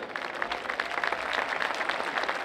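Crowd at a Texas A&M-Kingsville vs West Texas A&M game applauds veterans of the Lost Patrol, a steady wash of clapping from many hands sustained throughout at moderate distance.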